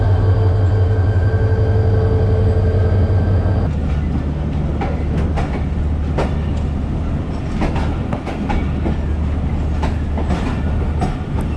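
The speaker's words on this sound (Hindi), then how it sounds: "हमारी ट्रेन का डिपार्चर भी टोबा टेक्सिंग से शुरू हो गया।" Pakistan Express passenger train pulling out of Toba Tek Singh station, a loud low engine drone that gives way to rhythmic wheel clatter and track clicks as the cars roll on, heard close without voices.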